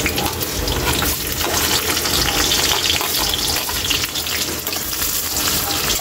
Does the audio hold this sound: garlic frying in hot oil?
yes